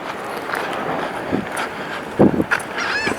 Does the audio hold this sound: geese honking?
yes